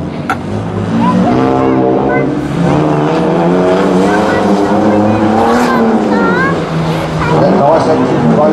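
At a drift competition, engines roar steadily while tires squeal in long, wavering screeches as two cars drift together, with a commentator talking over the noise throughout.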